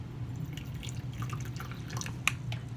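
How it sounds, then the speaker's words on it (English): Warm water is poured into a ceramic matcha bowl, heard as faint trickling and scattered light drips and splashes over a low background hum, with one brighter splash near the end. "pour a little warm water"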